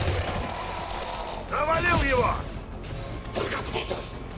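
A rifle fires in XCOM 2, one sharp crack with a brief ringing tail, heard once under a calm voice talking over the game.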